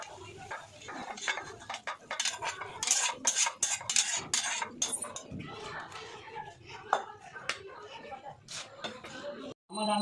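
Cooked bata fish in mustard-poppy seed sauce being tipped from a pan, with utensils clattering and scraping against metal in quick irregular knocks, fairly close, with a voice faintly in the background.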